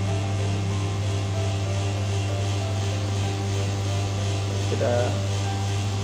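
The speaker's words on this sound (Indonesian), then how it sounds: "Proses vakum sedang berlangsung." A TEXA Konfort 700 car AC service machine runs its vacuum process with a steady, loud low electrical hum and a constant mechanical drone, while a voice briefly speaks over it.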